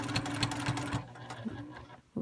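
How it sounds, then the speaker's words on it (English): A sewing machine quilting through fabric layers runs in a fast, steady stitching rhythm for about a second, then stops, leaving quieter handling sounds and a short bump at the end. "So I'm just going to quilt to where that pin is going into the fabric"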